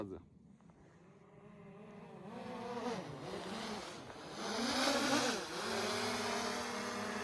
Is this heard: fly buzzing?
yes